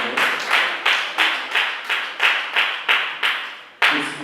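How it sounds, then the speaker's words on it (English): An audience claps for volunteers in steady, rhythmic bursts, about three per second, fairly close and even in loudness, with a brief pause before the last clap. "Give a round of applause for them."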